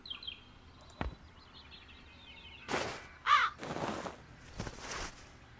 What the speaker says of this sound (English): The crows fly into the net